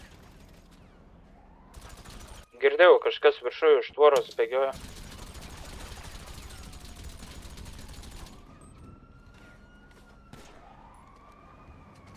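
In a video game, a short rapid burst of gunfire rattles out midway, loud and close, with players talking over the surrounding game ambience.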